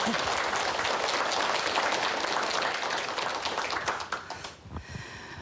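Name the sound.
audience applause welcoming a lecture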